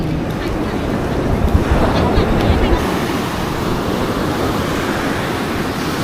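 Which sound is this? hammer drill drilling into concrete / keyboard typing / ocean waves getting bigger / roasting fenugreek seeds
ocean waves getting bigger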